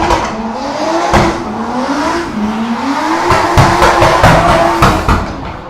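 A drift car slides around a racetrack during practice at the Cyprus Drift Championship round 3: a loud, continuous engine wail rises and falls in pitch with tire squeal layered over it. No voices.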